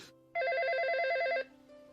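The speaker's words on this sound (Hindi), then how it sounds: "फोन बज रहा है" A cartoon telephone rings in one electronic burst of trilling tones, loud and close, lasting about a second before cutting off.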